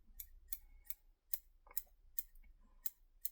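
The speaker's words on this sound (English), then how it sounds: "this probably is going to benefit from a little bit of trimming on the underside there" Scissors trim the underside of a fly being tied, a simple sardine pattern, with eight or so crisp, close snips at a steady rhythm, each separated by a short quiet gap.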